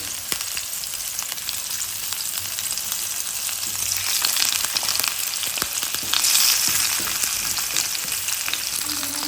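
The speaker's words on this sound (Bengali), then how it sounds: "প্রথমে আমি মাছগুলো ভেজে নিই। বেশি ভাজবো না, হালকা করে ভাজবো।" Hilsa fish pieces fry lightly in oil, making a continuous close crackling sizzle that swells a little partway through, with occasional clicks from handling in the pan.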